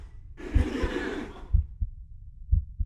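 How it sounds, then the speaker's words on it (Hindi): A heartbeat sound effect played on a comedy talk show sounds as deep, thudding paired beats that repeat steadily about once a second. A breathy hiss runs over the opening beats, and no one speaks. "धड़कन की आवाज तेज करना थोड़ी"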